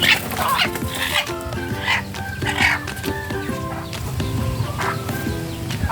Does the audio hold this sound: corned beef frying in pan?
no